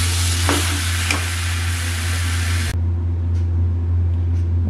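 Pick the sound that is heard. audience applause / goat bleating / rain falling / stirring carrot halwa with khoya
stirring carrot halwa with khoya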